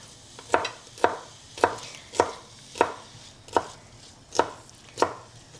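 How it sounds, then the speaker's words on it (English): Darren chops vegetables with a knife on a cutting board, eight or nine crisp, evenly spaced chops close by with nothing else heard. "Darren's cutting the vegetables"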